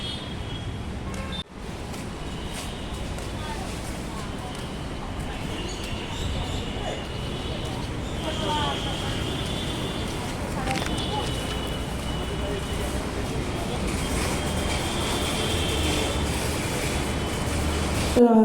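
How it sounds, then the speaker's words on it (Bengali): Inside an underground metro station, trains rumble steadily with occasional wheel squeals, while people talk in the background throughout. "এই যে মেট্রোতে এখন ঢুকছি"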